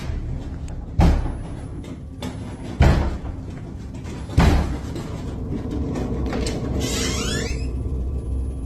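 Three heavy door slams ring out at a slow, uneven pace in a house, loud and close, followed by a quieter rumble and a brief scraping sound.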